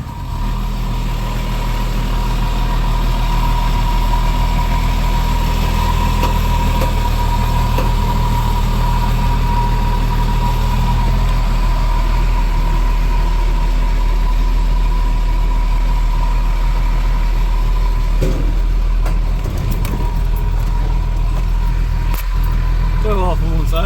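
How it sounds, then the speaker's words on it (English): A 1993 Dodge W250 truck idles with its dual disc clutch rattling, a steady close engine drone with a continuous low hum and some rattle throughout, with a few brief knocks near the end. "That rattling is my dual disc clutch"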